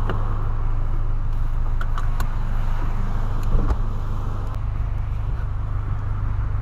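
A Volkswagen Polo driving on the road, heard from inside as a steady, loud low engine and road rumble with tyre noise, continuous throughout, with a few faint clicks and no talking.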